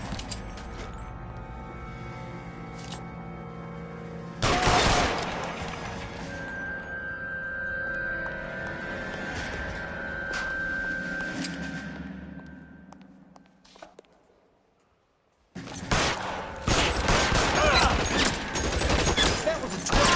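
Gunfire in the crime video game L.A. Noire comes in loud bursts of rapid overlapping shots. A sharp volley opens the sequence, then a quieter stretch with hum and scattered shots, a near-silent gap, and a dense, intense fusillade at the end.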